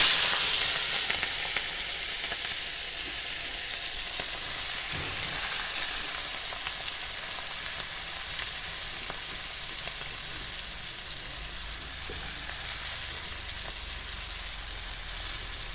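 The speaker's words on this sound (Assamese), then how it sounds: "মাছকেইটা তেলত অলপ সময় ভজাৰ পিছত" Small fish frying in oil with a dense, steady sizzle that holds loud and even across the whole stretch, close by with a few faint stirring taps and no talking.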